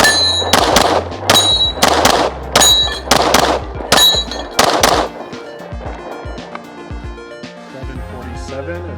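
Rapid pistol shots ring out against a Texas Star steel spinning target, about eight sharp cracks each followed by bright metallic clangs, then the steel rings and rattles on as the firing stops.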